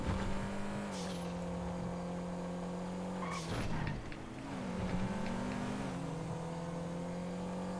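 A Panto car racing in GTA FiveM, its engine holding a steady droning whine that dips briefly with a tyre skid and scrape midway before climbing back to a constant buzzing hum.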